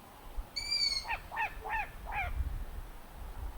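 A long-eared owl gives a series of four short high-pitched calls, preceded by a brief higher tone, heard clearly over a low background rumble.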